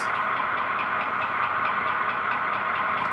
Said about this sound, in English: That's a Jeep 9 sound.